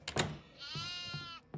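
A goat bleats in the horror video game Devour with one long, wavering, nasal bleat rising in the middle, framed by a few short thumps and clicks, fairly close and moderately loud.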